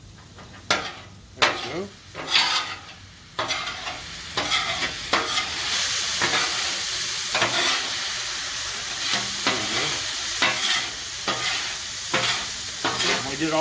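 Browned ground meat sizzles and hisses in a pan for nacho taco salad, with repeated scraping stirs and utensil clinks. A voice speaks briefly over the cooking.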